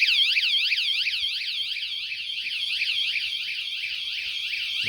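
WSDCAM wireless anti-theft vibration bike alarm rated at 113 dB, sounding a rapid, continuous warbling electronic siren with regular repeating sweeps, steady and loud throughout.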